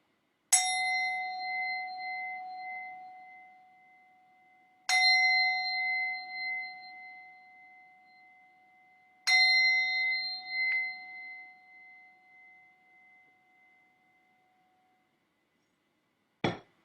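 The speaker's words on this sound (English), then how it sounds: "So I'm going to start by ringing a bell" A ringing bell is struck three times at spaced intervals, each ding clear and resonant with a long decaying tail, followed by a brief final strike near the end, alone in a quiet room.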